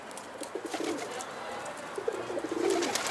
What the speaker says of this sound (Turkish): Kuşu demek ki uçurdular kuş geri gelmiş buraya.